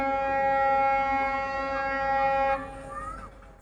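Railway train horn at a station blaring as a long, steady, loud multi-tone blast that holds for about two and a half seconds before breaking off and fading, with faint crowd noise behind.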